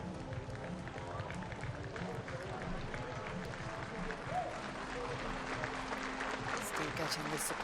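A gymnastics crowd applauds a gymnast's floor routine at the Varna World Challenge Cup, sustained clapping and cheering running continuously throughout under background commentary.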